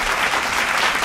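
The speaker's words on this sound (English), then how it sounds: "Applause, applause." Brief, steady applause sounds during a playful boyfriend dress-up challenge at home, a dense patter of clapping lasting about a second.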